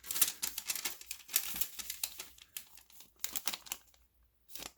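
Packaging for a ratchet and tool bag being unboxed: crisp rustling, crinkling and tearing of plastic and cardboard in quick irregular bursts, close and fairly loud, with a short quiet gap near the end.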